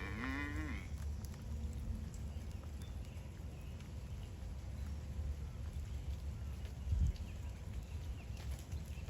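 Heifers lowing on a farm, a drawn-out moo near the start and then quieter distant livestock sounds under steady background noise.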